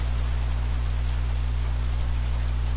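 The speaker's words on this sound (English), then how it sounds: "Jeez, won't this rain ever let up?" Steady rain falling in the video game Heavy Rain, a dense, even hiss of downpour with an underlying low hum, continuous and fairly loud, with no talking over it.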